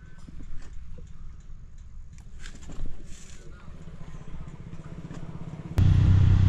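A motorcycle held in gear on a country ride near Purulia gives a continuous low engine drone with faint ticking, and a loud burst of wind noise arrives near the end.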